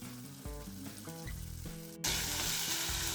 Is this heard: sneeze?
no